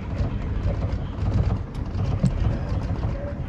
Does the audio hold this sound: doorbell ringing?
no